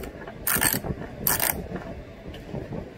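A socket wrench ratchets as it loosens the nut on a Bonaire swamp cooler water float valve, giving two short bursts of close, bright clicking over a low background.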